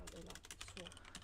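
Rapid, irregular clicking of a computer keyboard as commands are typed during a programming session, steady and close throughout.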